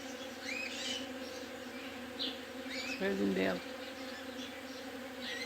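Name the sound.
bees buzzing around jaboticaba blossoms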